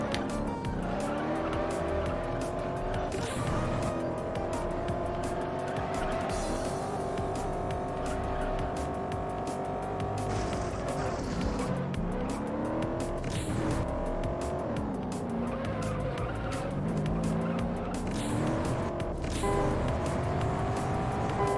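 Engines roar continuously in the racing video game Juiced, with shifting, rising and falling revs, repeated tire squeals and skids, and a steady, dense, fairly loud mix throughout.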